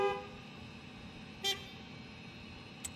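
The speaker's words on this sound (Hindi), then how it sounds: "परंतु हॉर्न कौन दे रहे हैं?" Two short car horn toots sound in a gas station video game, the first around mid-clip and a fainter one near the end, over a steady background hum.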